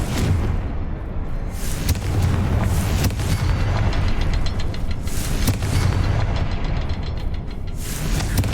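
A Confringo spell explodes in the video game Hogwarts Legacy: a loud, sustained blast of booming, rumbling roar that stays dense and unbroken for several seconds, with no voices.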